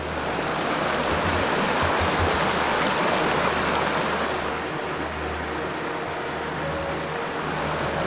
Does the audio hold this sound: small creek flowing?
yes